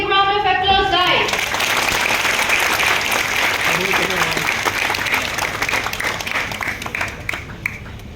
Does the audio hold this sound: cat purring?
no